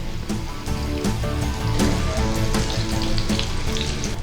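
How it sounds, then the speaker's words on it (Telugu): Batter-coated okra deep frying in oil over moderate heat gives a steady, busy crackle and bubbling hiss, fairly close and continuous throughout, with a few brighter pops along the way. "ఇలా కొంచెం ఈ పిండి కలర్ వచ్చే వరకు ఫ్రై చేసుకోవాలి"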